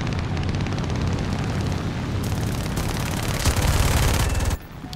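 A tail gunner's .50 cal machine gun hammers out rapid, continuous bursts in an aerial dogfight in War Thunder, loud and dense for several seconds before cutting off abruptly, with engine drone underneath.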